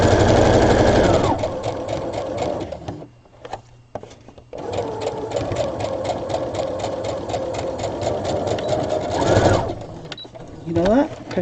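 A sewing machine back stitches on an 18-inch doll dress, its rapid, even needle chatter running in two bursts with a short pause between them, close and clear, while someone talks over parts of it.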